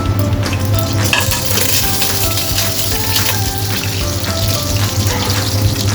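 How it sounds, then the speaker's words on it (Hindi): Cumin and nigella seeds sizzle in hot oil for aloo bhujia, a steady, dense, close crackling hiss that carries on without pause. "तो हम सबसे पहले हम इसमें डालेंगे ज़ीरा और साथ में कलवंजी"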